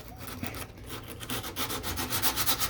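Body filler is sanded flat on the deck lid of a 1969 Corvette, a close, steady rasping scrub of back-and-forth strokes that grows louder and more rhythmic toward the end, with no voices.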